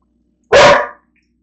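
A single loud, close dog bark rings out sharply and stops, leaving near silence on either side.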